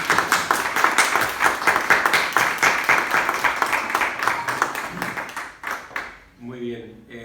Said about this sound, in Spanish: aunque se merecía este aplauso porque ha sido francamente muy buena la exposición